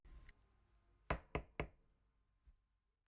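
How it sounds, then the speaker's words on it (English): Knocking on a wooden door, three firm, evenly spaced raps close by, followed by a fainter lone thud, in an otherwise quiet room. "Joe tapped on his door"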